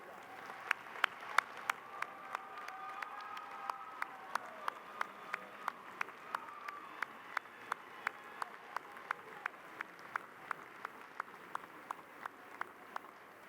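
Families of graduates are applauded by an audience at a university fall commencement, a steady wash of distant clapping filling the auditorium, punctuated by sharp regular clicks throughout.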